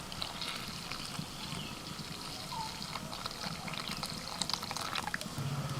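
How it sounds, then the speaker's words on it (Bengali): Warm water pours into naan dough ingredients in a bowl as a soft, steady trickle and splash, close and fairly quiet, growing slightly busier toward the end, with no talking. "এবার দিয়ে দিচ্ছি এই গরম জল।"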